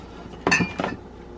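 Casserole dishes and pie pans knock together inside a bus interior, two quick clinks of glass and metal close by, with quiet in between.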